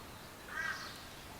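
A single crow caws once, faint and distant, at a national park campsite in Cape York, Australia, over a low outdoor background with no voices.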